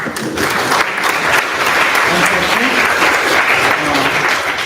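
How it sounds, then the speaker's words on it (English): Dense, loud applause fills a conference hall at a generative AI forum in London, continuous and even for several seconds with faint voices underneath. "clap again for the courage"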